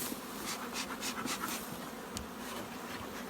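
Honey bees buzzing steadily around an opened small nucleus hive, a dense close hum with individual bees passing near.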